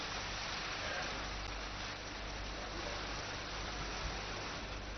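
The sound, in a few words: rain falling in Manendragarh district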